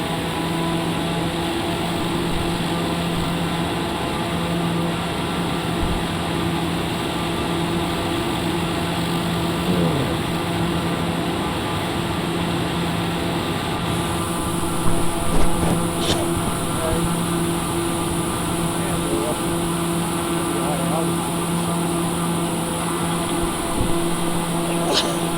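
A flight-simulator aircraft engine runs at full power for takeoff, a loud steady drone with a constant tonal hum that holds throughout and carries no talk.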